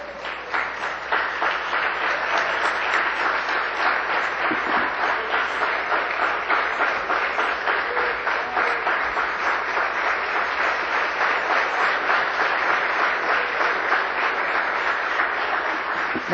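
Sustained applause from a religious meeting audience honouring Jesus, dense and even clapping that stays loud and steady for a long stretch without talk.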